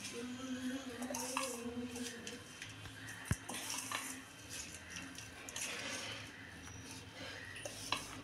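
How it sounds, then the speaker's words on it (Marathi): A spice masala with salt is stirred and mixed in a pan, with soft scraping strokes, light utensil clinks and one sharp tap over a faint background sizzle, fairly quiet. "आणि हा आपण मसाला मिक्स करून घ्यायचा"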